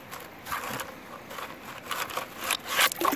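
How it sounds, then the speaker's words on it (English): Gritty scraping as rocks are pushed out of a gold pan during panning, uneven close scrapes and rattles that grow louder toward the end, with no speech. "Scrape out all the rocks."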